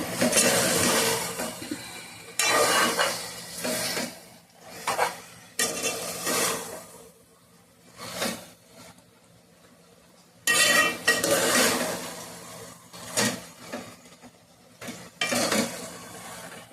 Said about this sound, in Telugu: ఇప్పుడైతే పసుపు ఉప్పు వేసిన తర్వాత బాగా ఇలా కలుపుకోవాలి